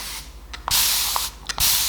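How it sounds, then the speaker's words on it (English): Two to three short hissing bursts of fine mist from a continuous-spray water bottle filled with plain water, sprayed onto hair, each burst a broad airy whoosh lasting about half a second, close and fairly loud with brief quiet gaps between. "use this continuous mist spray water bottle with just plain old water"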